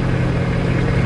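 A Kenworth tri-drive fuel truck with airbag suspension and super single steer tyres cruises along the road, its engine a steady, loud, low drone with no break.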